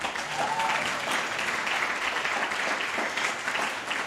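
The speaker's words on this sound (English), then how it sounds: "Let's give a round of applause to every single speaker that has spoken thus far." Sustained audience applause at a developer event, honoring the speakers who have presented so far; the clapping is dense and even throughout, with faint crowd murmur underneath.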